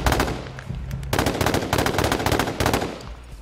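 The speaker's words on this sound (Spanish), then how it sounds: "Le están disparando de otro lado, güey." Rapid automatic gunfire in the PS4 battle-royale game H1Z1, dense bursts of close, loud shots with a short pause before the firing resumes.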